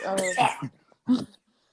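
A man's harsh cough sounds close up during a casual podcast recording, one burst of coughing followed by a second short cough after a pause.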